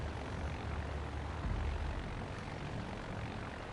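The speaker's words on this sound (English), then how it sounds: "So let's take off 8 more planes. 8 planes go up." Eight planes taking off together in a PS4 video game, a loud, steady droning engine roar that holds continuously throughout with no talking.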